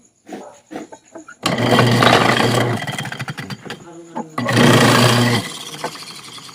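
An ice crusher with a weak spin motor runs in two loud bursts of grinding, roaring hum separated by a quieter stretch. A few short knocks come before the first burst, and there is no clear talk.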